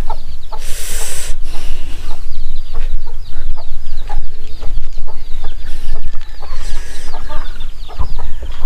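Loud, close clucking from several chickens, with busy overlapping calls and scratchy bursts of movement throughout.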